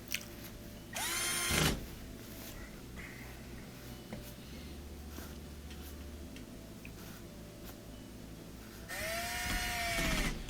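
Two short whirring bursts of a power drill, one early and one at the end, drive Phillips screws into an LG washing machine frame, rising and winding down, with quiet shuffling and faint handling noises between them.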